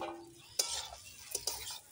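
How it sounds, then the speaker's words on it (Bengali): Cauliflower and potato stir-fried with spices, two or three quick spatula scrapes against the pan over a faint sizzle, close and soft. "একসাথে ভালো করে কষিয়ে নিই।"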